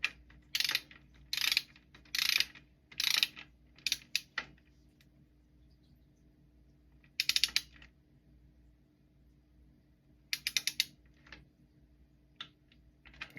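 A ratchet tightens bolts on the lower half of a Triumph Spitfire during restoration, giving quick bursts of clicking with pauses between them, close and fairly quiet, and no voices.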